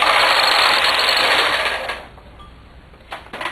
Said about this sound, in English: as I go across with the carriage, I will knit through the last stitch